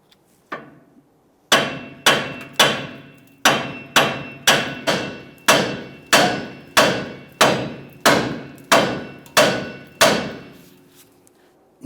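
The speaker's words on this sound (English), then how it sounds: "I'm going to start tapping up along where the upper ball joint makes its way through the knuckle here." A hammer striking a steering knuckle to free the upper ball joint: about sixteen loud, ringing metal blows in a steady, evenly spaced rhythm, each decaying briefly before the next, close to the listener.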